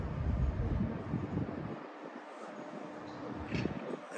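Low rumbling of the Amtrak Coast Starlight passenger train moving past the Oakland Coliseum station, fading as it pulls away, with wind buffeting the microphone and faint higher rattles toward the end.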